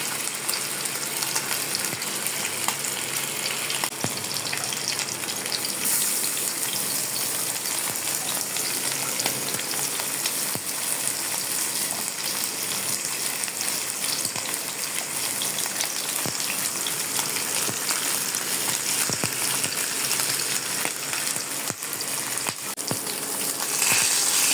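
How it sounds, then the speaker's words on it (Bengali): Hilsa fish pieces fry in hot oil, a dense, unbroken hiss and sputter that stays close and fairly loud throughout. "আমি আজকে ইলিশ মাছ রান্না করব, তাই ইলিশ মাছগুলো হালকা করে ভেজে নেব।"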